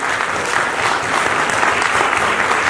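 Loud, dense applause from an audience at a National Excellence Award 2023 ceremony, a steady unbroken roar of clapping throughout with no break.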